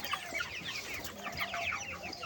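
A flock of broiler chickens on a poultry farm clucks and chatters constantly, many overlapping calls close by and busy, with no clear speech.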